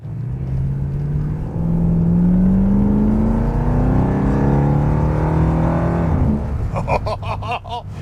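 A 1973 Jensen SP with a torque-converter automatic accelerates hard on a wet road, its engine note rising steadily and loud for several seconds, then dropping as it shifts into second gear before climbing again.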